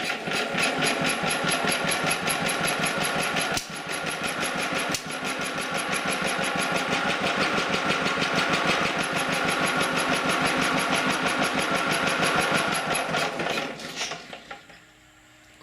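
A small Kohler 350C21K7 generator engine fires up and runs with a fast, steady, close mechanical chatter for about fourteen seconds, then cuts off abruptly and goes quiet.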